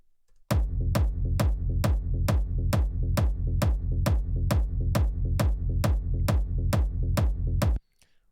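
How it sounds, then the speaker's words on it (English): A big room techno triplet drop plays loudly and alone for about seven seconds, with a steady run of heavy kick drums over a sustained bass. "now we'll go into the kick and bass, which sounds like this for the triplet drop"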